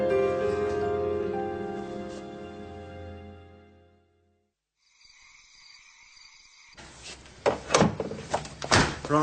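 A door closes in a police drama scene, heard after a tonal passage and a short hush as a burst of sharp knocks and a thudding slam, near and fairly loud.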